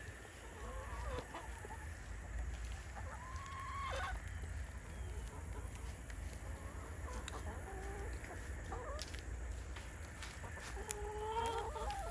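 A flock of backyard chickens clucks and murmurs nearby, with scattered short calls rising over a faint steady background hum.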